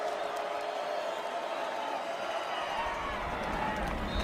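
Fans at Bobcat Stadium cheering through an NCAA FCS championship quarterfinal football game between Montana State and Stephen F. Austin: a steady, broad roar of the crowd that runs the whole time, with a commentator talking over it.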